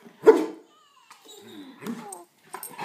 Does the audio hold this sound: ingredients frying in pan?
no